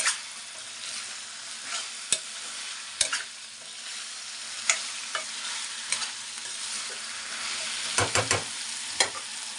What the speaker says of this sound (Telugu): ఇలా ఆయిల్లో కొద్దిగా ఒక పది నిమిషాలు ఫ్రై అవనిద్దాం